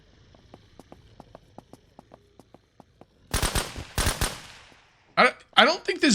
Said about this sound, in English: I don't think this gun is silenced.